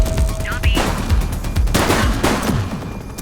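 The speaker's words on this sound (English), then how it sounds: "police are engaged in a fierce shootout following yet another bank robbery" Rapid gunfire crackles in a police shootout after a bank robbery in the video game The Precinct, bursts of shots over a dense, noisy mix with a voice briefly audible.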